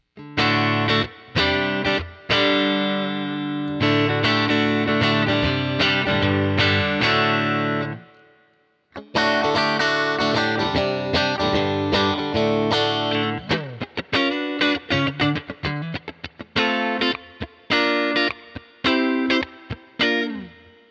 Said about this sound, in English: My main clean sound lately has been this 59 Bassman.